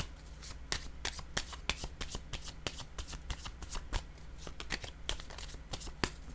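Tarot cards shuffled by hand, quick riffling and flicking bursts with sharp slaps as cards are laid down, close and fairly quiet, no talk.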